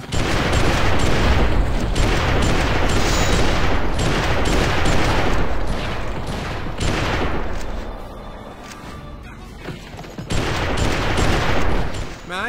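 Dense gunfire and booming cannon blasts from the Western shooter game GUN, sustained volleys and bursts crowding nearly the whole stretch with brief lulls, loud and close.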